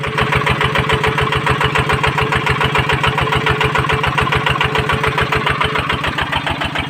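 A ZT155 tractor engine runs loud and close while preparing soil for planting chillies, its steady, rapid thumping pulse continuing without pause.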